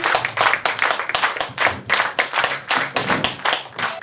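Concert audience clapping for a performer in a strong rhythmic unison, regular loud beats of many hands pulsing at about two to three per second, close and sustained.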